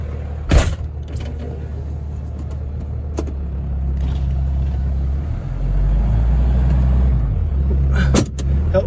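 A truck towing a load of hay labors up a wet, dew-covered grassy hill, its engine droning steadily and rising as it climbs, with a brief clunk near the start and another near the end.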